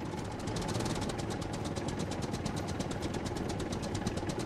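A tractor engine in the Scum survival game runs steadily, a continuous low rumble with a fast regular knocking pulse, heard alone at moderate distance.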